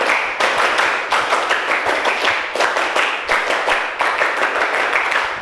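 Students at SMP Negeri 7 Nganjuk perform a rhythmic command clap, a fast run of sharp, close, loud hand claps in repeating patterned bursts with brief pauses between phrases, no talking over it.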